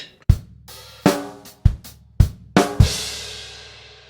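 A drum kit plays one swung bar of a Trinity College London Grade 3 piece, with five or six sharp hits and a final accented crash that rings out and decays, played solo.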